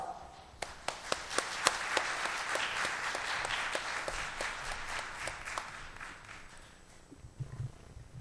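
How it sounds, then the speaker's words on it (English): Sustained audience applause in a conference hall welcoming a guest speaker before a talk on cloud computing, with a few sharp claps at the start building into a steady wash of clapping that fades out near the end. "Please welcome him a big round of applause."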